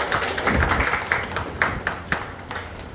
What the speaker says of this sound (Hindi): जोरदार तालियां उसके लिए दीजिए